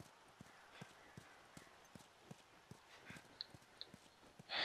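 A horse's hooves clip-clop in a steady walking rhythm in the video game The Last of Us Remastered, quiet and fairly close, ending with a sudden louder burst of noise.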